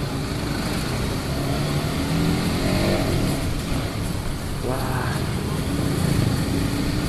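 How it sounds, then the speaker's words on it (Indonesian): A motorcycle engine with its stock exhaust runs steadily and fairly loud, with a brief rev rising partway through, under someone talking. "Kalau suara standar gini menurut kalian enak gak sih buat didengar ya?"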